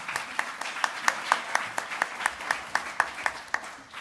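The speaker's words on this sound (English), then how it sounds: "Please give a round of applause for all of the panelists." Audience applauding panelists at a faculty event, a thinner round of claps with distinct individual sharp hits in a loose rhythm, moderately close and steady throughout.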